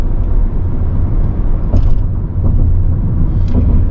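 A 2024 Toyota Prius Prime SE plug-in hybrid on skinny tires drives down the road, giving a steady, close, low rumble of tire and road noise with a few faint higher whirs.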